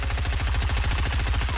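Rapid automatic gunfire in the Fortnite battle royale game, a steady fast burst of shots close and loud from start to finish with no talk over it.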